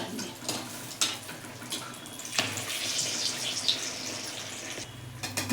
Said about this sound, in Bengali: দেখুন মালপাগুলি ভাজি কত বড় বড় করে ফুলছে বড় হচ্ছে